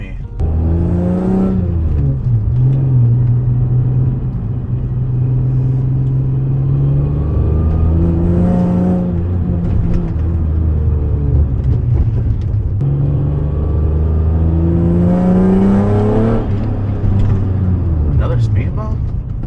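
A tuned Acura TL Type S cruising slowly at night, its engine a steady low drone that rises and falls with gentle revs under someone talking throughout.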